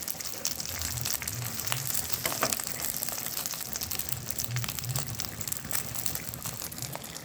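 Bhetki fish frying in a pan, a steady soft sizzle and spatter of hot oil running throughout, fairly faint and close.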